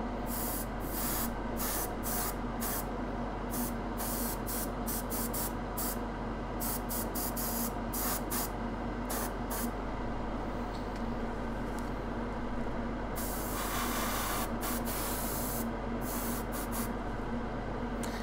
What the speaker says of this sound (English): So let's airbrush all the golden parts for this miniature.